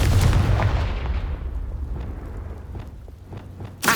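A Confringo blast spell explodes in Hogwarts Legacy on PS5: a loud, booming burst at the start that rumbles and fades over several seconds, with a few faint crackles in the tail and a sharp new impact at the very end.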